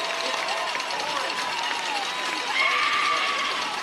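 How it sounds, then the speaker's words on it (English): Crowd cheering at a high school football game as a team runs out the clock for victory; a broad, continuous roar of spectators from the stands, swelling slightly toward the end, without distinct speech. "the crowd, you can hear, is cheering on"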